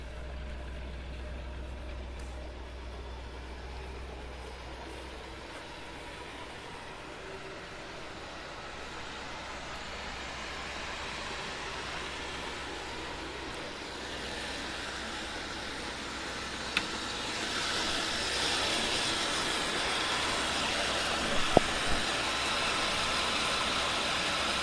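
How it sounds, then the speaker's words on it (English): A Lincoln Continental's engine runs steadily with a fan whirring, a broad rushing hiss that grows louder and brighter partway through, over a low idle rumble, with a couple of faint clicks near the end. "that fan is really spinning much faster"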